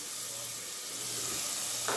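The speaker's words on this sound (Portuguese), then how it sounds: "Vou dar uma refogada aqui" Two garlic cloves sauté in a hot pan for a chicken pie, giving a soft, steady sizzle and hiss throughout with no talking.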